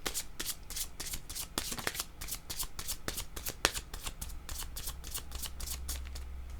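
Oracle cards being shuffled by hand in a steady run of crisp riffling flicks and slaps, close and fairly loud, with no voices over them.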